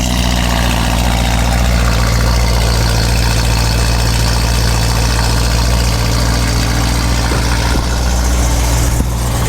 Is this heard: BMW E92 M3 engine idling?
yes